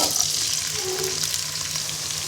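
Chopped onions fry in hot soybean oil in a kadai for a cabbage bhaji, a loud, close, steady sizzle with faint stirring.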